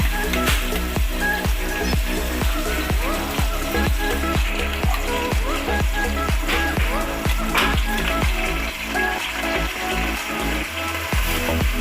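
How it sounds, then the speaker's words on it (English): Ginger garlic paste fries in a pan over medium heat for a South Indian chicken curry, sizzling steadily with a rapid, regular scraping of stirring underneath. "Now add ginger garlic paste."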